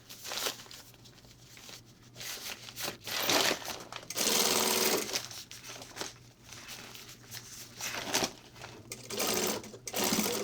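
A sewing machine stitches a cinch panel onto a 20-litre bag, running in repeated bursts of rapid chattering with short pauses between seams, close and fairly loud throughout.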